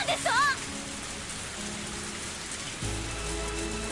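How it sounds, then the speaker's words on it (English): Steady rain patters continuously on a surface in the Higurashi visual novel, a dense wash of drops that grows slightly fuller partway through, with a brief high synthetic chime near the start. "As I looked up, I felt the raindrops hit my face."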